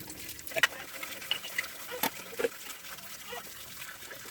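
A brass pooja lamp being rinsed in water, with soft splashes, drips and small clinks scattered over a quiet trickling background.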